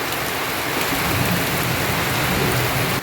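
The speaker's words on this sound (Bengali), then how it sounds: "এবছরের প্রথম বৃষ্টি" The year's first rain falls steadily outdoors as a dense, loud, even hiss of drops that runs unbroken for about three seconds and then drops off slightly at the very end.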